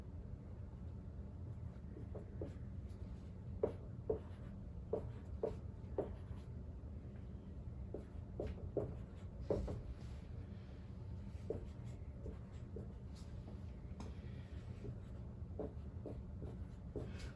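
A pen writes numbers into a KenKen puzzle on paper, with a series of short scratchy strokes in quick irregular clusters, up close and quiet over a low background hum.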